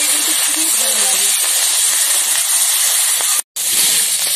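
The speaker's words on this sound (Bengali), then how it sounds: "সব সবজিগুলো ভালো করে ভাজা হয়ে গেছে" Vegetables fry in a pan for an onion-greens dish, a loud, steady sizzling hiss close by that cuts out for a moment before resuming.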